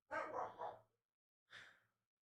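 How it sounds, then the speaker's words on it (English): A toothless Shih Tzu mutt barks a few times nearby, a quick double-triple burst followed after a pause by one more softer bark, alone with no talk. "there is a doggo barking in the background"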